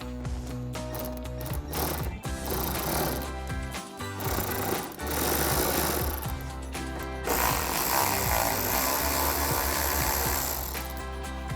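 Power tool whirring and buzzing in long bursts while removing bolts from a 2024 Mustang bumper, loud and close with short gaps between runs.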